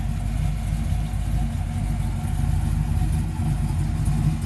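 An LS-powered 1955 Chevy 210 coupe idling, a steady deep rumbling engine note heard close and continuous, with no talking.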